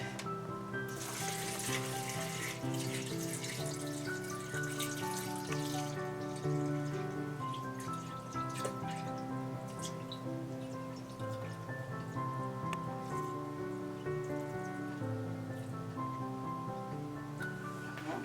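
Water pouring steadily into a container for infused water, a continuous splashing rush over eighteen seconds with a rising fill tone, close and even.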